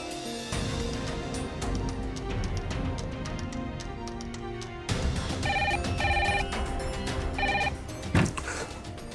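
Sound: telephone ringing unanswered

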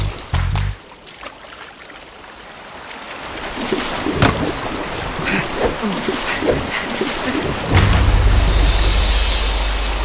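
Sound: raging Nile waterfall rushing water in cartoon

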